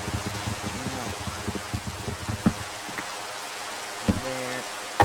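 Rain falls in a Minecraft-style video game, a steady soft patter beneath murmured speech and scattered clicks and thuds.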